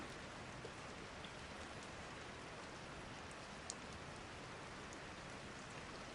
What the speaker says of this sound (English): Listen to the rain on the windshield and let the story unfold.